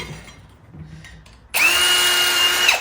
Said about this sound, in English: So now we're stepping up to a 9/64 drill bit. Now rim it out a little bit more.